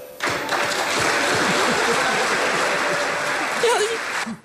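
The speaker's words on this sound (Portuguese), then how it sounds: "Eles aplaudem" A studio audience breaks into dense, steady applause during a Portuguese political commentary programme, with murmuring voices underneath before the clapping tapers off.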